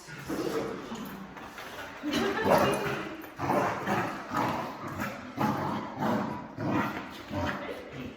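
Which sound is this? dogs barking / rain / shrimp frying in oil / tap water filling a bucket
dogs barking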